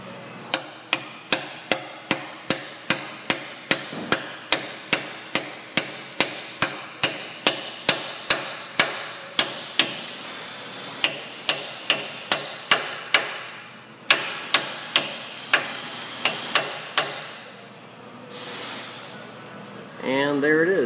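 A new rear axle seal on a Ford is hammered into place with a long run of sharp, evenly spaced metallic blows, close and loud, pausing briefly before a few final strikes.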